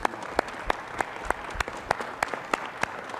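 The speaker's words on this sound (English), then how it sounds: "let's give this young man a round of applause." An audience applauds at a city council meeting, a steady wash of clapping with distinct sharp claps popping out at regular intervals, continuing throughout without talk.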